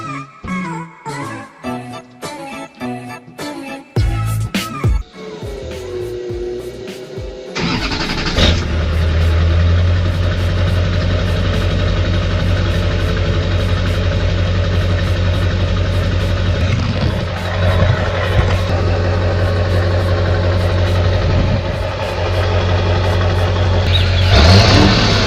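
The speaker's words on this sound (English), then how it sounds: "let me show you guys really quick a cold start" A Duramax diesel truck with a 5-inch Diamond Eye straight-pipe exhaust cold-starts after a few clicks and a brief crank, then settles into a loud, rough, steady diesel idle close by with no talk.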